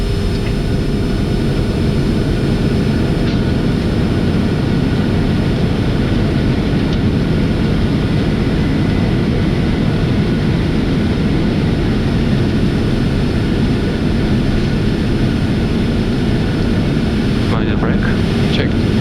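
A Boeing 747-400's engines roar in reverse thrust after landing, a loud, steady broadband rush under cockpit voices exchanging brief callouts.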